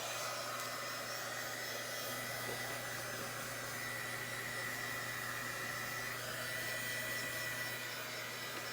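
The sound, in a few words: hair dryer drying a vintage VW craft project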